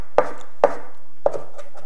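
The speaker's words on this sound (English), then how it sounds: "I'm just chopping up some cilantro here" A knife chops fresh cilantro on a cutting board in three crisp, separate knocks spaced unevenly, close and clear with no talking.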